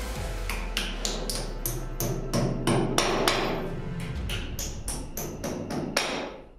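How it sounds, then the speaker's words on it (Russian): Plastic dowels are hammered into drilled holes in a gas block wall, a rapid series of sharp, ringing hammer blows in an irregular rhythm, close and loud with no talk. "Вставляем в отверстие дюбеля."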